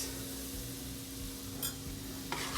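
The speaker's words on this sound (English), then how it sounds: "And you need to whisk after each time." A whisk stirs milk into a thickening casserole sauce in a pan, a steady close scraping and swishing over a faint sizzle, with a couple of brighter clinks of metal against the pan.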